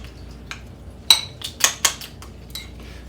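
A spoon scrapes and clinks against a pot while taco soup is mixed, giving a handful of sharp metallic knocks spaced irregularly over a quiet background, close by and fairly crisp.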